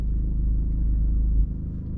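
Low, steady engine and road rumble from inside a BMW 1 Series driving in evening traffic, a continuous drone that dips slightly near the end.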